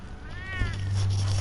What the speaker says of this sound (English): Some of those Siamese cats.